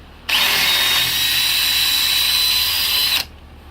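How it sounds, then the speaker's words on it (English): A power drill bores into a rivet on an old wooden ladder, giving one steady, loud, high whine of about three seconds that starts and stops abruptly, with no other sound around it. "So you want to drill to the inside,"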